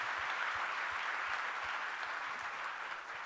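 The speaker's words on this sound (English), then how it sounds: "just join me in giving another round of applause for Justice" Steady applause from a lecture audience for Justice Lalit after a talk on the death penalty in India, a dense, even wash of many hands clapping at moderate volume throughout.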